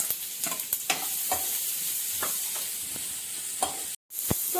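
Chopped onion frying in hot oil with popping mustard seeds, a constant bright sizzle broken by scattered sharp pops and a few stirring scrapes, heard close up with no talking.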